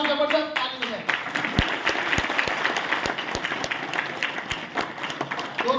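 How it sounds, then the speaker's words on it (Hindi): Energetic applause from a seated seminar audience, dense clapping with sharp nearby claps standing out, preceded and briefly followed by a voice speaking. "तो मैं चाहूंगा एक बार आप अपने लिए एक बार जबरदस्त ताली दें।"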